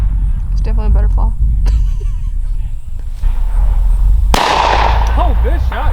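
Shotgun blasts ring out during an Alabama dove hunt in 2020, sharp broadband cracks with one loud shot near the middle standing out over constant outdoor noise, birds and scattered talk.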